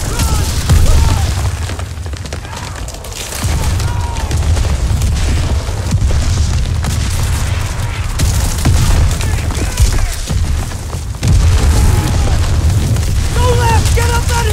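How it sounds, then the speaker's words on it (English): Deep booming artillery explosions roll through a Call of Duty: WWII battle, heavy low rumbles repeating under constant combat noise and shouting soldiers, moderately loud and dense across the whole stretch. "Artillery!"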